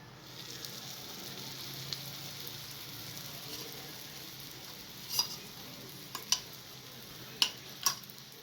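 A paratha fries in oil on a pan, giving a soft steady sizzle throughout with a few sharper crackles and pops near the end, close and fairly quiet, no voices.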